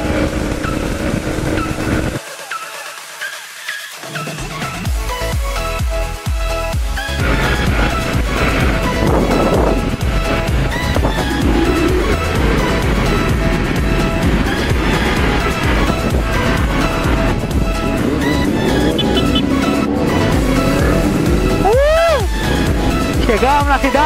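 Motorcycle engines revving hard into the rev limiter on a busy town-centre street, loud and continuous, with repeated high-pitched rising whines and bursts across the clip while people talk over the engine noise.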